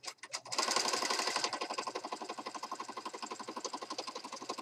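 A sewing machine stitches down a piece on a mostly white journal page with soft colours, running in a fast, steady rhythmic patter after a few brief starts, close and moderately loud with no talking.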